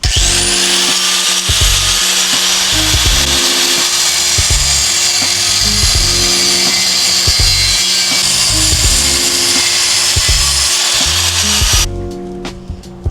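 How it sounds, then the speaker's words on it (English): A loud power tool cuts through a Subaru WRX turbo support bracket with a steady high-pitched grinding whine and pulsing lower motor tones, running continuously up close before stopping near the end. "just cut it into 2 pieces because it is a turbo support bracket"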